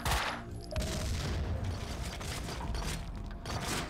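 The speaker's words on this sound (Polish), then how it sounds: "Możemy sobie tutaj strzelić" Gunfire in the Max Payne 2 video game: a burst of loud shots up front, then a dense rattle of mechanical clatter and rapid firing that continues, swelling again near the end.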